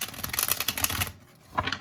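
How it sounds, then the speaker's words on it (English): A deck of tarot cards is shuffled by hand, giving a rapid, close riffling patter of paper flicks for about a second. After a short quiet gap, a brief second burst follows. "Let's just get these cards shuffled a little bit"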